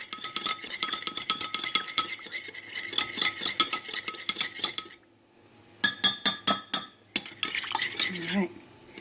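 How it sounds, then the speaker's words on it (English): A spoon stirs a cornstarch and honey sauce in a bowl for cauliflower fried rice, making repeated close scraping and clinking strokes that pause briefly midway and then resume. "I'm going to give it a good stir until all of that lovely cornstarch and honey is kind of dissolved."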